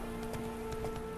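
A horse gallops across crop fields in The Witcher 3, its hooves striking in a quick, regular clip-clop rhythm over a steady background hum at moderate volume, with no talk.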